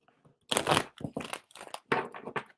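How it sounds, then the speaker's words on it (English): A deck of tarot cards shuffled by hand at a card-reading session: three close, papery crinkling bursts of riffling and sliding cards separated by short pauses, with no talking. "feel like I need to do one more shuffle"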